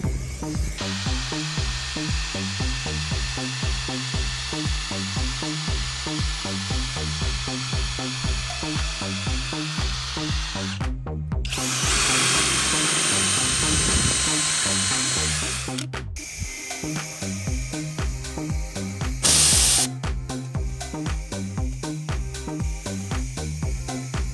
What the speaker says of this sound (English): And now just using my air compressor.